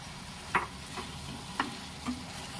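Garlic potatoes being stirred into gravy in a pan, with a spoon scraping the pan in a few separate, unhurried strokes over a soft, steady sizzle.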